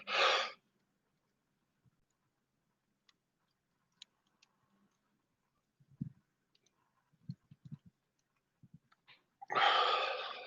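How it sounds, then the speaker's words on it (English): A deep breath in during thermal meditation: a loud, close breathy rush at the start, scattered faint clicks and soft low thumps through a quiet middle, then another long breath near the end. "Take a deep breath in."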